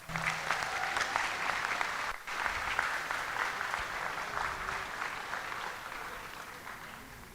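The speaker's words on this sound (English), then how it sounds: "give them another round of applause" An audience at a Class of 2023 upper sixth form school leaving ceremony applauds steadily, a dense continuous clapping that holds loud with a brief dip near two seconds, then fades slightly toward the end.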